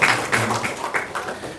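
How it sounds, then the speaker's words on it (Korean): Church congregation applauding during an Easter Sunday service after a member is received as a catechumen, a short burst of clapping that thins out toward the end, close and fairly loud. "한 번 더 박수하겠습니다."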